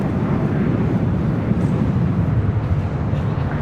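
A jet airliner roars in on the landing approach to runway 25 left at LAX, its engine noise a broad, steady rumble that stays loud and close without fading.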